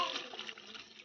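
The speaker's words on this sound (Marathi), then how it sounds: "याच्यात गरम पाणी टाकून देते" Hot water poured into a cooking pot, a short close splashing gush of liquid that fades slightly over about a second.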